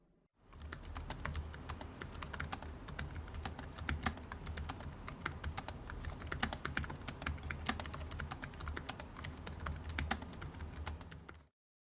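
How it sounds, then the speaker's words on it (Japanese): Continuous rapid typing on an ASUS ROG Zephyrus M16 (2022) gaming laptop keyboard, crisp close clicks in a steady busy rhythm with no talking. "まずはキーボードのタイピング音から。"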